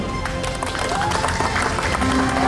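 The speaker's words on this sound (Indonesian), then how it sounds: "tepuk tangan dulu." An audience applauds West Sumatra Governor Irwan Prayitno at a stage event, a continuous wash of clapping mixed with music and crowd voices.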